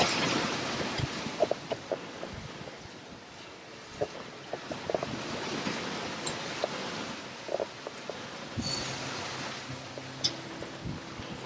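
Atlantic ocean waves slosh and splash against a sailboat hull at sea, steady wash with intermittent slaps and gusts of wind buffeting the microphone, no voices.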